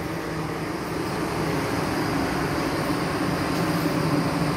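Inside an ED4M REX regional express electric train at Pushkino station, a steady rumbling hum of running gear and air conditioning fills the carriage, even and continuous with no voices.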